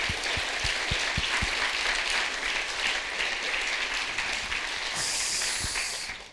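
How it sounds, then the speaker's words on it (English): A live audience applauds after a musician and the poet Yomi Sode perform at a talk event, with dense, sustained clapping filling the room, a few loud thumps near the start and a brief cheer toward the end. "We get a round of applause for these guys"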